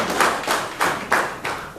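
Five loud, evenly spaced claps or thumps ring out at an indoor foundation discussion event, sounding more like a single person's deliberate hand claps than a full crowd's applause.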